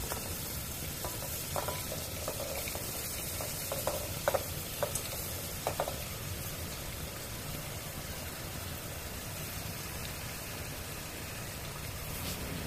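Sliced onion, tomato, and chopped vegetables fry with fennel seeds in a pan for a vegetable kurma. A steady, moderately loud sizzle runs throughout, with occasional clicks and scrapes of stirring near the start.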